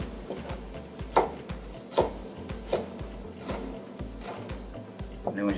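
Knife slicing peppers on a cutting board for a cabbage salad: evenly spaced thuds and crisp cuts, roughly one per second, close by, with faint low background hum.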